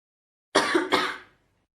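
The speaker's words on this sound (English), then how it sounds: "Please could you cough?" One short, deliberate cough in two quick bursts, close to the microphone and followed by silence.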